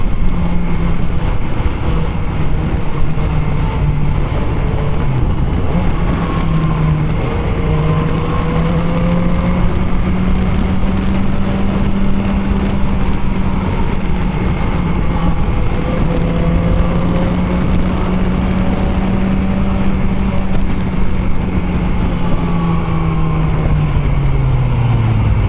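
A BMW S1000R motorcycle filters through commuter traffic, its engine droning loudly and continuously with rising and falling pitch as the rider works the throttle, buried in heavy wind rush.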